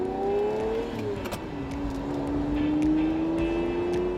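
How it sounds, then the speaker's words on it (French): A car drives steadily with a continuous engine note that climbs in pitch as it accelerates, an open-road drone under light wind and road noise, with no voices. "Une virée en voiture, c'est vraiment mon passe-temps favori."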